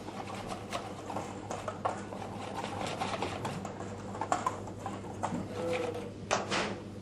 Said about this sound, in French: une confortable cuillère à soupe toujours de farine que nous allons mélanger avec l'œuf blanchi avec le sucre